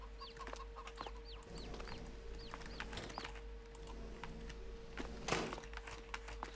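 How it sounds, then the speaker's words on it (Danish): Chickens on a Danish farm cluck in short, repeated calls scattered over a steady low hum, with a brief louder rustle near the end; no one speaks. "Nå, der er kyllinger."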